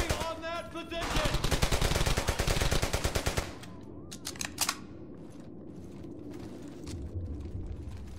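Rapid automatic gunfire from a Battlefield game session on PS3, a loud dense burst of shots for about two and a half seconds, then scattered single cracks and mechanical clicks over low rumbling background with faint speech.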